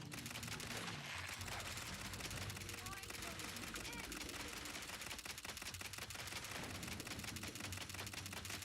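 Rapid, dense gunfire from a video game shooter, with bursts of shots running almost continuously and voices talking over the shooting.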